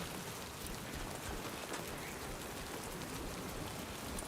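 Steady rain of timefall pours down in the video game Death Stranding 2, a dense, even hiss of falling drops that continues at a moderate level throughout with no pauses.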